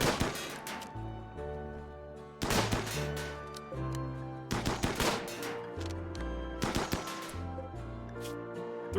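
Rapid bursts of gunfire in RimWorld, a colony-management video game, crackle in clustered volleys over steady, droning background music, with a few heavier sharp hits punctuating the run.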